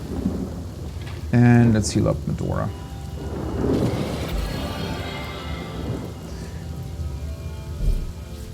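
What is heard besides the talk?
Rain spell with thunderstorm in video game Divinity: Original Sin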